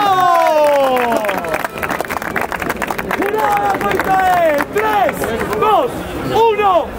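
A crowd at a freestyle rap battle claps for two rappers, with scattered sharp claps running beneath loud, excited shouting and a voice calling out over the noise.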